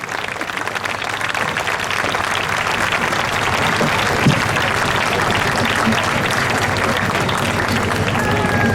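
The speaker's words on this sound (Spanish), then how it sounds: "demanem un aplaudiment per Gabriel Rufián" Sustained audience applause at an independence festival rally in Reus, welcoming a speaker; dense, steady clapping from a large crowd lasting throughout, with a faint voice briefly audible under it.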